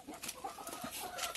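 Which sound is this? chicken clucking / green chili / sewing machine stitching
chicken clucking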